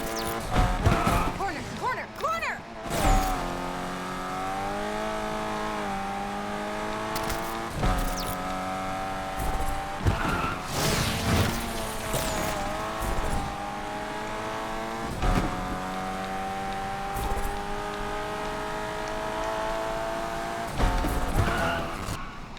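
Car engine revving and tires squealing through drifts in the racing game Need for Speed Unbound, with loud sustained engine tones rising and falling and repeated screeching skids, a voice talking over the driving.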